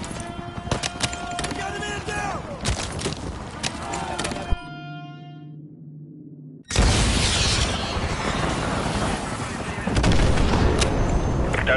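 A guided AGM missile striking an enemy helicopter in a video game lands as a sudden loud blast after a brief quieter stretch, followed by sustained roaring explosion noise, with clattering gunfire-like sounds earlier.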